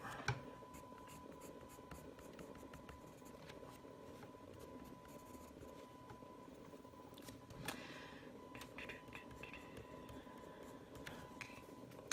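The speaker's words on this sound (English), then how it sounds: "just shade in this dark blue into every curve of the fabric" A coloured pencil rasps softly across paper in quick, repeated strokes, shading dark blue into fabric folds in a quiet room.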